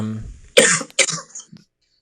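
A person coughs in a sudden fit, with two or three harsh, close bursts in quick succession after a brief voiced sound.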